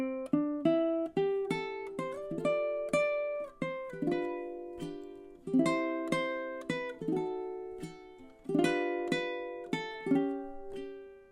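Solo ukulele plays the first stanza of a song, plucked notes and strummed chords ringing and decaying in a gentle, unhurried melody, close and clear with no talking.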